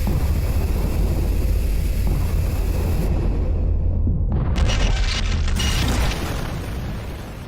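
A massive explosion in a Thunderbolts story makes a loud, deep roaring rumble that holds steady for several seconds, with a sharper crackling burst partway through, before fading at the end.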